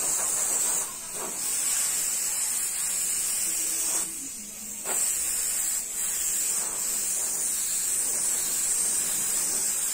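Airbrush spraying varnish onto silver for a touch-up: a steady, close, hissing spray that runs almost continuously, pausing briefly a couple of times.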